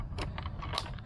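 Keys jangling at the ignition of a Sumetra Single Bella e-bike, a few bright metallic rattles and clinks close by over about a second, with no speech.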